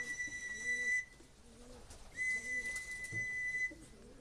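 A large young pigeon in a loft, sounding two drawn-out high whistles separated by a pause, close, with soft coos and low background noise underneath.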